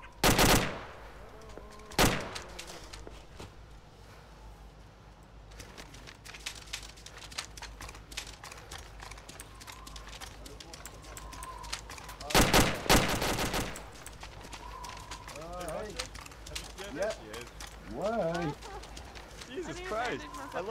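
Sharp bursts of video game gunfire in ShackTac Arma, with a few loud close volleys and scattered distant shots, while players talk and shout excitedly over the action.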